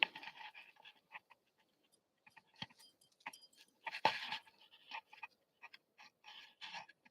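A dog pants quietly and close by in short, rapid bursts with brief pauses, alone in a quiet indoor space.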